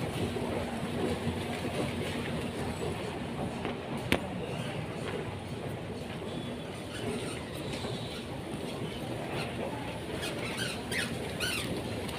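Steady rumble and rattling of an LRT light rail train in motion between Cubao and Legarda, Manila, with rhythmic wheel clacks and occasional squeals, continuous throughout at moderate loudness.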